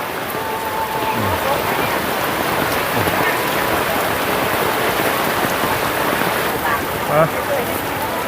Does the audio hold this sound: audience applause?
no